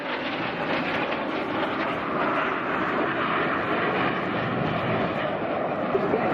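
A lone Red Arrows jet flies over at an air display on the seafront, a loud, steady broadband roar that holds throughout without a break.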